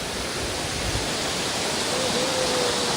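A small waterfall at Rajgad fort in Maharashtra gives off a continuous, loud, even rush of falling water, with no other sounds over it.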